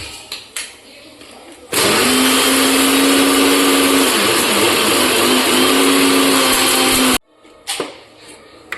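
Electric mixer grinder grinding coriander chutney with a little water and salt, a loud steady whir starting abruptly and running for about five seconds before cutting off, with brief kitchen clatter before and after.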